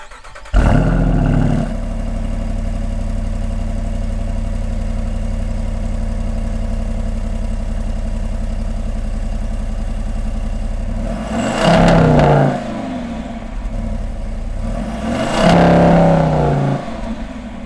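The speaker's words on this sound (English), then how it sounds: "I'm going to rev it up with the non-performance mode on" A 2021 Jeep Wrangler's stock 392 V8 engine starts and idles with a deep, steady rumble, then revs up loudly twice in short bursts with performance mode off before settling back to idle.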